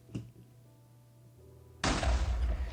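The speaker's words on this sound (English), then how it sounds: "look at this explosion" Industrial TNT from the IndustrialCraft 2 mod for Minecraft goes off after a quiet fuse stretch: a sudden loud, broad blast erupts and keeps rumbling to the end, preceded by a faint early knock.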